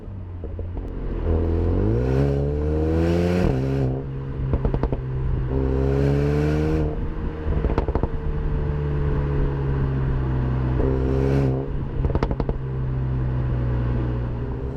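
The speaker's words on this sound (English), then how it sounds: "you get a lot more sound, and that's kind of what I'm expecting coming into a Brabus version of the A35" A Brabus-tuned Mercedes-AMG A35 engine revs repeatedly, with rising and falling harmonic sweeps over a steady loud drone and sharp crackles between pulls, close and with no talk.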